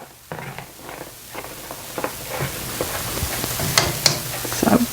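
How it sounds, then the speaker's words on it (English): Creamy shrimp tortellini Alfredo sauce simmers on low heat in a pan, giving a soft, steady bubbling hiss close by, broken by scattered light clinks and scrapes of stirring. "I'm going to turn the heat to low and let this simmer for about 15 minutes until it's kind of thick and creamy"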